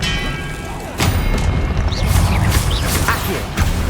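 An Expelliarmus spell cast in the Hogwarts Legacy game lands as a sharp boom near the one-second mark. A dense rumble of impacts and crackling bursts follows, with another thud near the end.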